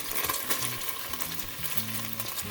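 Thinly sliced garlic and red onion frying in a pan, a steady close sizzle with brief low clattering and stirring bumps underneath, no voices.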